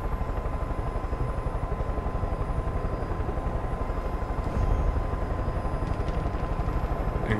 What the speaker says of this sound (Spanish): Encuentra el helicóptero desde el puesto de vigilancia.